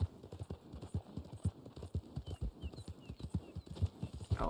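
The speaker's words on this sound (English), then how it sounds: "Oh, and I should feed this horse." Horse hooves clip-clopping steadily in Red Dead Online, a fast even rhythm of hoofbeats on the ground at close range, with no talking over them.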